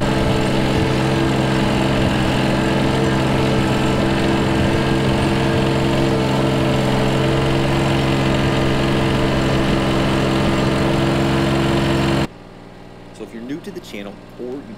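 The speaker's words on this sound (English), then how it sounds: "This is our John Deere 755 compact utility tractor." Engine of a John Deere 755 compact utility tractor running at steady idle, a loud continuous droning hum that cuts off abruptly near the end, leaving quiet background sounds.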